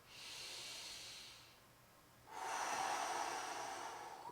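Deep breaths during a yoga stretch: a long, airy inhale followed by a brief pause, then a stronger, fuller exhale, close up and steady with no talking.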